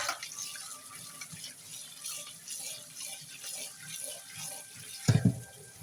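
Homemade wheat-flour noodles are rinsed in water, a soft splashing and sloshing swish that comes and goes quietly, ending with a brief louder knock of a bowl or pot.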